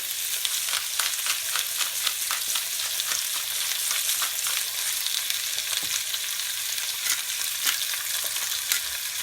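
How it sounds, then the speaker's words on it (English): Pork chops seasoned with salt and pepper searing in a hot pan, a loud, dense, steady sizzle and crackle that holds evenly throughout with no voices. "just going to seal these and brown them on both sides"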